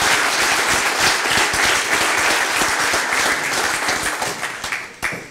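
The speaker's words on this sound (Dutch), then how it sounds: "Ja, warm applaus." Warm applause from an audience greeting company nominees at a mayor's New Year's address, dense steady clapping throughout that thins out near the end.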